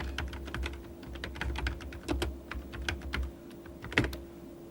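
Steady typing on a computer keyboard while entering an email subject line, rapid uneven keystrokes close by with brief pauses, no voices.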